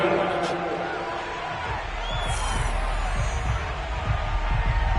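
A stadium crowd in the Madden 22 football video game rumbles and shouts steadily during a replay, a dense roar beneath a commentator's voice.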